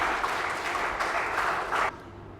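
Dense, loud audience applause welcomes the chef who founded an event management company at a food event, a full crowd clapping steadily before it cuts off sharply near the end.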